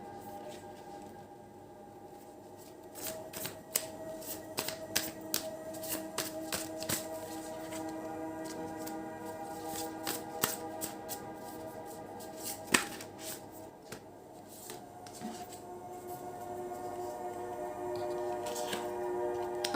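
Tarot cards are shuffled by hand in a quiet room, with soft, irregular riffling and tapping sounds heard close and faint.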